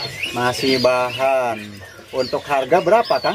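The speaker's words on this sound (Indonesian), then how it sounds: "Di sini tersedia juga untuk stok burung perenjak ya" Prinia birds in a shop kiosk give quick, faint chirps beneath close conversation between two men.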